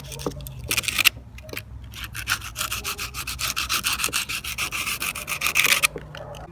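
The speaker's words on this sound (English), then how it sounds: "take your sandpaper again. We're just going to go around the edges of the terminals here, making sure we get all that corrosion" Sandpaper rubbing corrosion off car battery terminals, close rapid back-and-forth scratchy strokes in a steady rhythm after a few short opening rubs, with no talk.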